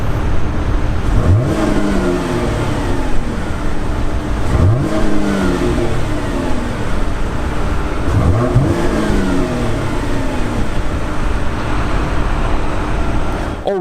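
A 2017 Chevrolet Impala engine revs three times in even succession, each rise and fall clear and close, over a steady idle rumble.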